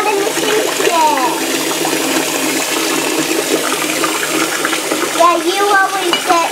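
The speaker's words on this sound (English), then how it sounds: "Now is a good time to turn off the water and just put all the dishes in there." Tap water runs steadily into a kitchen sink full of soapy dishwater as dishes are washed, a constant rushing wash with a child's and an adult's voices chattering over it.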